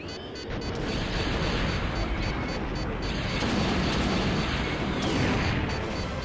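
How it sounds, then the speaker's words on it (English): Missiles launch and explode in Star Wars: Shadows of the Empire on PC, giving a dense, continuous roar of booms and blasts that stays loud throughout and swells near the end. "Oh, okay, that's how you shoot missiles."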